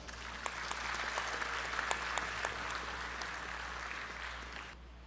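An audience bursts into steady applause, with dense clapping that runs evenly for several seconds at moderate distance and then cuts off abruptly.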